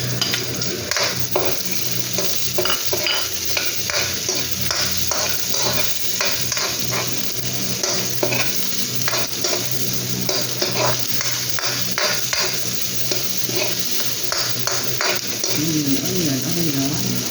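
Onions sizzle and fry in a pan for a budget chicken curry, stirred with steady scraping and clinks of a utensil against the pot, a continuous close, loud hiss throughout.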